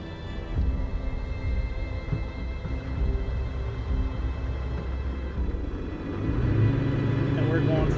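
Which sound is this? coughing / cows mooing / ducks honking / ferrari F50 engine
ferrari F50 engine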